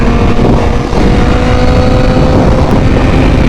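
A BMW HP4 motorcycle engine roars steadily and loudly on a test ride, its drone mixed with heavy wind rush throughout.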